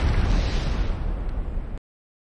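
A large explosion as a Nod Obelisk is destroyed in the video game Renegade, a loud, close, roaring blast that rumbles on for nearly two seconds and then cuts off abruptly into silence.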